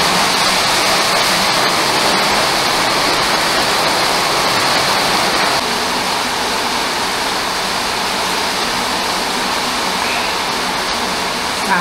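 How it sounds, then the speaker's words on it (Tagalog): Rain falls steadily, a close, even hiss of drops with no pauses and no voices. "Ang sarap pa panulan ng patak ng ulan"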